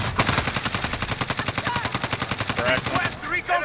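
Rapid automatic gunfire in the video game Call of Duty Warzone on Rebirth Island, a loud sustained burst of evenly spaced shots close by, with a brief voice under it near the end.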